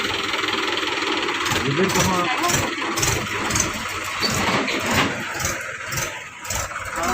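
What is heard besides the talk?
tractor engine running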